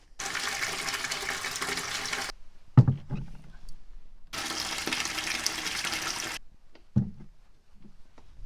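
Water pouring into a livestock drinking tank in cold weather, two bursts of loud rushing flow separated by gaps with clanks and knocks of handling, with no speech.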